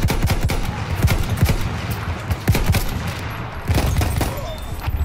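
Rapid, loud gunfire in a Battlefield 1 multiplayer match, with dense bursts of automatic shots and single cracks that keep repeating throughout, close and dominant, and faint voice in the background.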